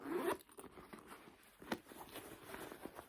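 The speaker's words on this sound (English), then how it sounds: "it has this little zipper pocket here on the outside. Or it's a hidden zipper." Zipper on the hidden pocket of a Dooney & Bourke leather purse pulled open in a few quick raspy strokes, close and quiet, with soft handling noise between.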